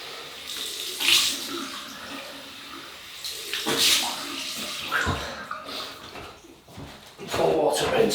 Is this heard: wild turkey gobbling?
no